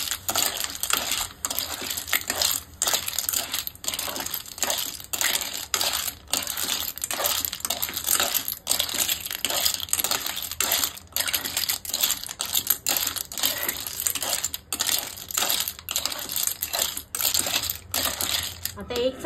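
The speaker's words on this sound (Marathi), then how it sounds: "शिंपल्या चांगल्या चमच्याने आपल्याला ह्या तेलात परतून घ्यायचे आहे" Clam shells stirred in oil with a spoon in a Goan-style dry clam dish, giving rapid continuous clattering and clinking of shells against the pan, close and busy throughout.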